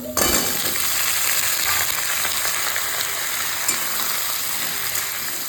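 Pumpkin and potato sizzle steadily in hot oil in a pan, a loud continuous crackling fry that holds for the whole stretch without talk.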